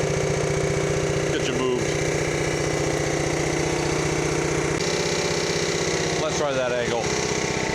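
A Honda GX140 gas engine idling on an air compressor, a steady close-up chugging drone that runs throughout while someone talks over it.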